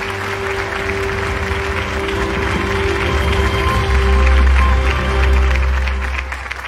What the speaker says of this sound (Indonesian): Tepuk tangan yang meriah untuk kita semua.